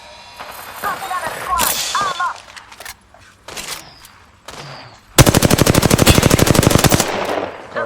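Rapid automatic gunfire from the Apex Legends video game bursts out loud and dense after scattered shots, clanks and synthetic effects, a fast continuous rattle of rounds dominating the latter half.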